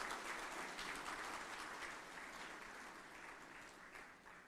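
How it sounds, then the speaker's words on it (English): An audience at the GNBS National Quality Awards Ceremony 2025 in Guyana applauds, a dense, sustained wash of clapping that slowly tapers toward the end. "Please give yourselves a round of applause."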